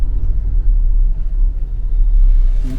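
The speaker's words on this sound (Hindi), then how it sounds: "2000 सीसी का इंजन है सर ये।" Steady low rumble from inside a Mahindra Scorpio N SUV with a 2000 cc engine on a test drive, a constant deep road and engine drone throughout with a faint rattle near the end and no talking.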